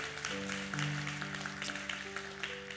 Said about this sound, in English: So give them a big hand clap, y'all.